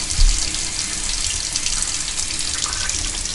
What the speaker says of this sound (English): We're also creating a little demand by keeping the faucet open.